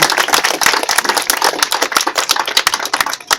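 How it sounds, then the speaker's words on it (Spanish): Applause for neighbors at a public meeting: a crowd claps steadily and loudly throughout, dense overlapping hand claps with no speech on top. "un aplauso para todos los vecinos que están aquí"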